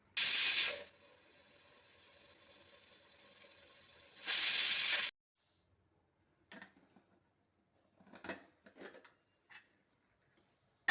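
A home pressure cooker holding washed rice with fresh grated coconut and greens lets out two loud bursts of hissing steam from its whistle, the first about a second long and the second nearly a second, with faint clicks and rattles after them.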